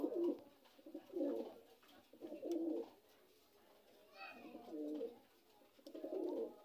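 Domestic Huma pigeons coo softly and steadily in a repeated, low, throaty rhythm, faint and close, over a quiet background.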